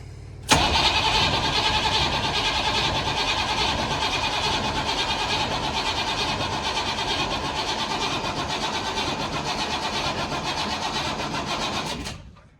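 New engine in a Chevrolet Blazer cranking over on the starter, a loud, steady rapid whirring that runs unbroken for about eleven seconds before cutting off, without firing.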